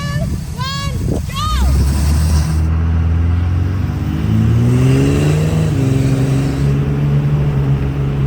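Turbocharged pickup trucks launch from a standstill in a parking-lot race, one running a stock turbo and others a 66mm ball-bearing turbo; loud, sustained engine roar climbs in pitch as they accelerate, with a brief voice at the start.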